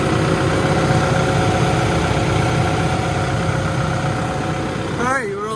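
The engine of a stump buster idles steadily and loudly after its fuel has been bled, a continuous rumble that cuts off abruptly near the end.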